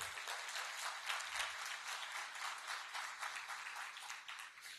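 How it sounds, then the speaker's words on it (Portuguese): Audience applause breaks out for Santa Catarina during a talk on Brazilian family size and real estate, a dense, steady wash of many clapping hands that stays full and even throughout. "Então, palmas para Santa Catarina."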